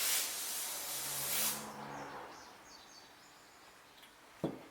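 An aerosol can sprays onto the fuel shutoff of a John Deere LA115 riding lawn mower in two close, breathy hisses, the first longer, followed by faint quiet and a small click near the end.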